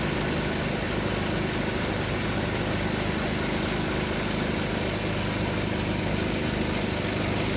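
A tugboat engine drones steadily and continuously at constant loudness while pushing a large coal pontoon toward a jetty, a dense low hum with no break or change.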